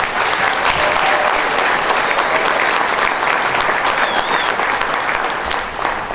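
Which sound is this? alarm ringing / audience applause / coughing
audience applause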